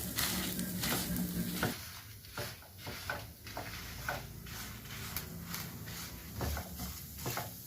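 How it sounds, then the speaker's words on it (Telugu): Dried red chillies fry in a pan for an Andhra-style amla spice powder, giving a soft, steady sizzle with scattered clicks and scrapes of stirring, close and fairly quiet. "ఇప్పుడు ఎండుమిర్చి వేస్తున్నాను."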